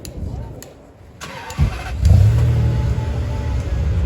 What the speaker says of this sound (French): Très feutré hein, pour une Ferrari